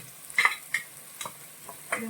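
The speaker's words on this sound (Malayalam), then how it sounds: "മൂന്നാല് നാല് ടേബിൾ സ്പൂണോളം മുളകും കൂടി ഇട്ട് നമ്മളിത് നന്നായിട്ട് വറുത്തെടുക്കണം" Chili and coriander powder frying in a pan for a Kuttanad-style fish curry, with a quiet sizzle broken by several scraping spoon stirs close up, no talking.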